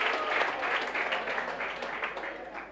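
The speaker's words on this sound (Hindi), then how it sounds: "एक बार जोरदार तालियां" Applause from students in a classroom during a law revision lesson, a dense burst of steady clapping that lasts the whole stretch and gradually eases off.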